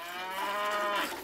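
A dairy cow on a small family farm in the Danube Delta lets out a single drawn-out moo, close and clear against a quiet background.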